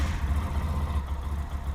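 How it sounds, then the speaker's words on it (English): A Lifan KPM 200 motorcycle engine runs at a steady idle after starting, a close, low, even rumble that pulses rhythmically throughout. "I just love how quick this bike starts"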